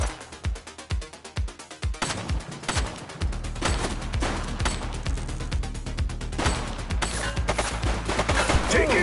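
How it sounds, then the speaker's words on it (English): A shooting suspect's gunfire in the police game The Precinct, starting as spaced loud shots and building into dense, sustained volleys. "He's shooting!"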